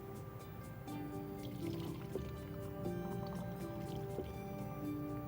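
Soda poured from a large beaker through a funnel into a bottle, making a steady liquid trickle and gurgle with a faintly rising ring over about five seconds, close and moderately quiet.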